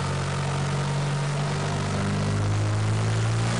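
A turbocharged car engine with an AEM Tru-Boost controller pulls through the gears at full throttle, a loud, steady droning roar with the pitch rising and then dropping as it shifts, no talking.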